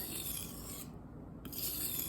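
Quiet, steady rasping of a knife blade drawn across a fine sharpening stone, close by, with a brief pause in the middle before the strokes resume.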